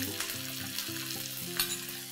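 Diced capsicum stir-fries in a pan with tomato ketchup and Szechuan sauce for chilli idli, giving a steady close sizzle with soft stirring scrapes and no voices.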